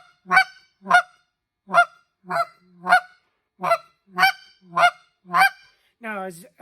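A goose call blown to make clucks, a series of about ten sharp, evenly spaced honking notes close up and loud with silence between them, ending in a longer wavering note.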